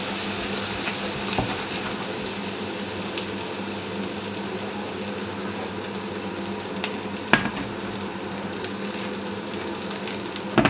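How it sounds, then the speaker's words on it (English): Butter foams and sizzles in a frying pan, a steady, close crackling hiss with small pops throughout and no talking. "At this point we're just going to add another little knob of butter,"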